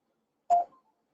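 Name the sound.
mobile phone ringing nearby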